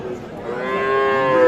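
A single bovine at a cattle market for young bulls and heifers lets out a close, loud, drawn-out moo that swells toward the end.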